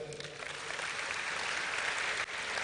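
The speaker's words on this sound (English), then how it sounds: "Let's clap for them." An audience at a Springboard 2019 event in Kumasi claps in a dense, even burst that holds steady for a few seconds.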